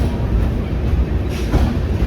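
Aboard the Sealdah–Jammu Tawi Humsafar passenger train, a steady loud rumble of wheels on rails fills the cabin, with faint clicking over the continuous low roar.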